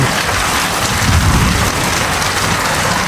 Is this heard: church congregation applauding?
no